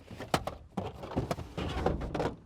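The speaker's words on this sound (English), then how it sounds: "There is, however, a ski hatch, which I think opens in a very inconvenient way." Opening the ski hatch in the rear seat of a 2020 Volvo V90 T6 R-Design station wagon, heard as a few close, soft thunks and rustling handling noises inside the cabin.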